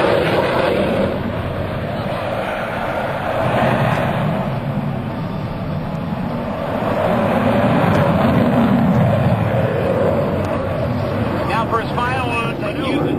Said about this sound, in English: Here comes Kent Shockley in the Peterbilt jet truck.